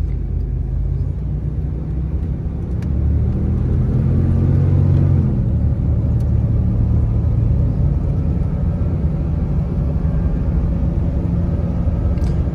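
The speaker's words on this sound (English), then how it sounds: "Great power from the throttle body, 350. Gets up to speed easily." A 1995 Chevrolet G20 conversion van with a 350 engine accelerates on a test drive, its loud, steady engine rumble and road roar swelling slightly as it gets up to speed, heard from inside the cabin.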